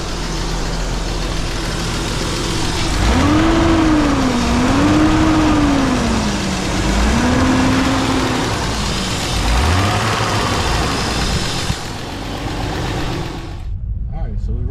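A BMW E36 car, just fitted with a new differential, runs on a test drive, its engine a steady drone rising and falling under a voice, loud throughout before fading near the end.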